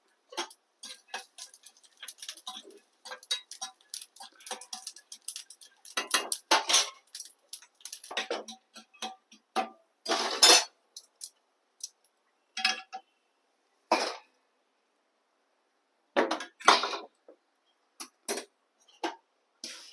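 A poha (flattened rice) mixture with cumin, made with very little oil, is stirred in a pan, producing irregular bursts of metallic clinks and scrapes from a spoon against the pan, close and clear, with no talking.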